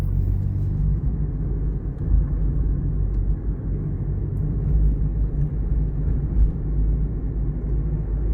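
A manual transmission car speeds up on a highway, giving a continuous low engine and road rumble from inside the cabin that holds steady for several seconds, with no clear gear-change break and no speech.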